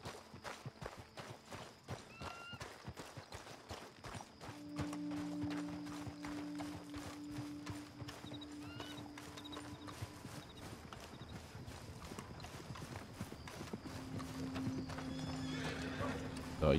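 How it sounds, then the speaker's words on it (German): Rhythmic clip-clop of hooves trotting steadily throughout in Red Dead Redemption 2, with a drawn-out horse whinny rising in the middle and another near the end, sounding game-like and continuous. "Unser zweites Pferd könnte kommen"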